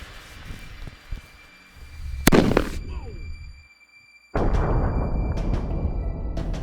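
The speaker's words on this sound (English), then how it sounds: "So I guess the question is with twice the black powder, do we get twice the bang?" A 20-gram charge of black powder explodes outdoors, a single loud, sharp blast that rings out and decays over a second or so. Silence follows, then a steady, broad rush of background noise.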